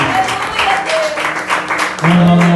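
Brief burst of applause from a church congregation at a Portuguese-language preaching service, moderately loud clapping with a voice speaking over it toward the end.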